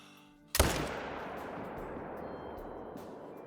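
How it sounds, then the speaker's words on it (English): A single sharp rifle shot at a lioness in the hunting game Call of the Wild cracks out fairly close, then a long rumbling echo and tail fade slowly across the open landscape. "we'll go for a shot on this lioness here"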